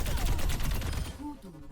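Rapid bursts of gunfire from the D.Va mech's cannons in Overwatch rattle loudly for about a second, then trail off into a few fainter in-game sound effects.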